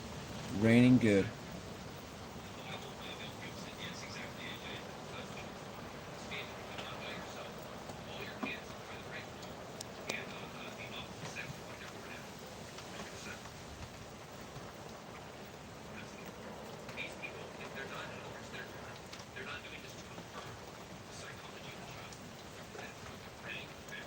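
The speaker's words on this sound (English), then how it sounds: "Raining good." Steady, faint rainfall patters outdoors throughout, with a brief louder knock near the start and occasional voices in the background.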